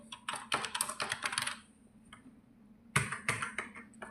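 Keys clatter on a computer keyboard in two quick bursts of close, rapid typing separated by a short pause, with no voices.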